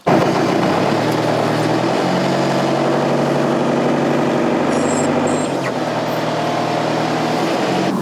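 A van with chains fitted pulls away on grass, its engine running loud and close in a steady drone that shifts pitch slightly as it moves off.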